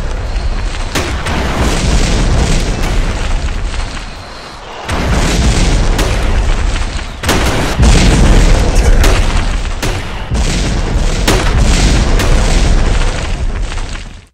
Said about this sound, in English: So you get a rocket launcher.